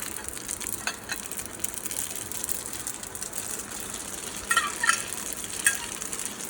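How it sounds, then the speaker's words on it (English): Spaghetti added to a sizzling pan and stirred, a steady frying hiss broken by scraping and clattering strokes, with a few louder stirring bursts near the end and no talking. "Now I'm going to add the rest of my spaghetti."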